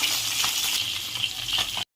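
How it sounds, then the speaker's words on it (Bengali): Fish frying in hot oil in a pan, turned to cook the other side, gives a loud continuous sizzle for about two seconds before cutting off abruptly. "উল্টে দিয়েছি, অন্য পিঠে ভাজা হচ্ছে।"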